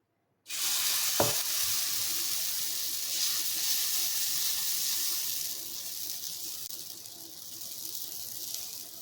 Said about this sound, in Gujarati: તો હવે આપણે એમાં થોડું ખીરું નાખી અને આપણે પુલ્લાનો આકાર આપી દઈશું.